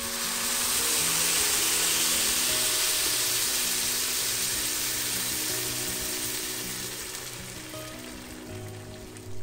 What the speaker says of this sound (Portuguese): Agora vamos acrescentar a água.